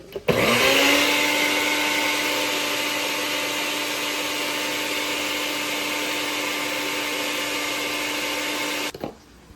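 A NutriBullet blender grinding coriander seeds into spice powder runs as a loud, steady motor whine that starts abruptly, holds constant for about nine seconds, then cuts off, heard close up with no voices.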